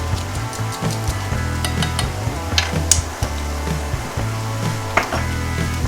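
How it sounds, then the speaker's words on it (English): Garlic sautés in a hot pan with a steady, close sizzle, broken by scattered clinks and scrapes of a wooden stirring stick, with no talking. "We're going to saute this until everything is nice and yummies."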